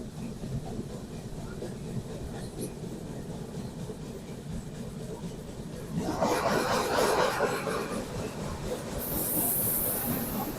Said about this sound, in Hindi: तो लो भाई, सामने से आ रही है कटरा नई दिल्ली वंदे भारत एक्सप्रेस।